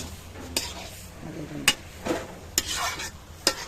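Spice masala being stirred and fried in a pan, a low sizzle running underneath sharp spoon scrapes and clanks against the metal at irregular intervals.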